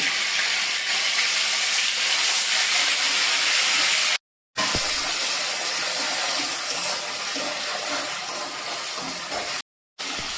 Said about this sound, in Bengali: এবার দিয়ে দেবো আদা বাটা, কাঁচা লঙ্কা বাটা আর কিন্তু স্বাদ অনুসারে লবণ।